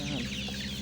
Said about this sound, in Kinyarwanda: Ni imishwi irimo iravuka itaravuka ariko igejeje igihe cyo kuvuka